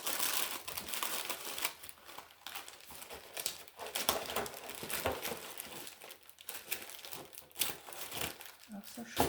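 Scrapbooking papers are pulled out and handled, giving irregular crinkles and rustles in uneven bursts, quiet and close, with someone talking in French in between.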